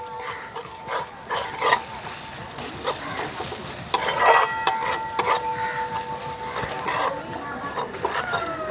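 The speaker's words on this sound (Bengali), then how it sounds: "জিরের গুঁড়ো শুকনো লঙ্কার গুঁড়ো মশলাটাকে ভালো করে কষিয়ে নিতে হবে" Cumin and dry chili powder spice mix sautéed in a pan for a catla fish curry, a busy run of scraping and clinking spatula strokes over a soft sizzle, close and steady, no talking.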